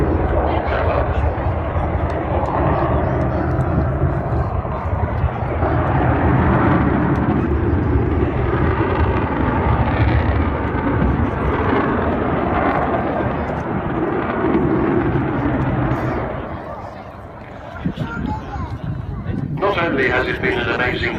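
The Avro Vulcan XH558 jet bomber roars past in a loud, sustained, broad rumble during an airshow display at Southport. The roar dips briefly near the end, and a voice talks over it.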